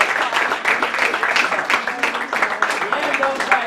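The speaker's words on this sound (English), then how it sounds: "Let's give him a round of applause." At a men's soccer banquet, the audience gives a departing player a round of applause, sustained, fairly close clapping from many hands that holds steady for several seconds.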